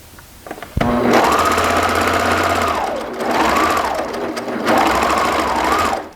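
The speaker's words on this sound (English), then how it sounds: "That means if you're using a serger, you're going to trim off 1/4 of an inch." A serger sewing a knit T-shirt seam and trimming off the fabric edge, a loud, fast mechanical whir that starts abruptly, runs in steady bursts and dips briefly between them.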